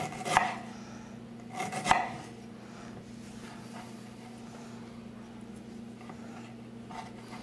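Ginger is chopped finely with a knife on a board: two sharp, close strikes early on, then fainter scattered taps over a steady low background hum.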